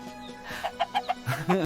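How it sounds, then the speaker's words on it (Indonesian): A chicken clucks several times in short, evenly spaced bursts, fairly close, over a light background murmur. "Sekarang aku paham kenapa ayam selalu bangun pagi lebih dulu."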